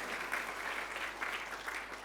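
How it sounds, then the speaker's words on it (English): A round of applause from the audience at a Gilmour Space Technologies talk event, steady and fairly quiet clapping from a crowd across the whole moment, with no talking. "Please give them a round of applause again."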